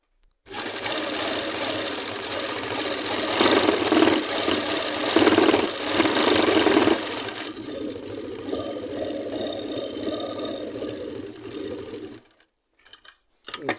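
A sewing machine runs continuously while stitching an Afghani salwar, its rapid mechanical whir steady and close for about twelve seconds before stopping abruptly, with a few faint clicks after.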